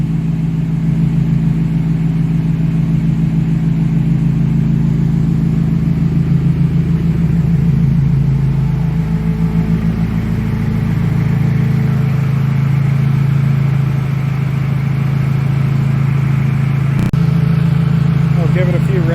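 A loud turbocharged 500 whp Mazda Miata idles steadily with a deep, rumbling exhaust drone throughout, close and continuous.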